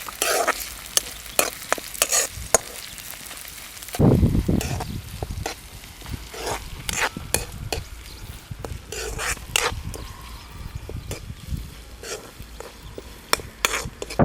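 Ginger garlic paste hits a hot frying pan for Pallipalayam chicken, giving a loud burst of sizzling followed by steady frying crackle, with repeated sharp scrapes and clinks of a spoon stirring against the pan.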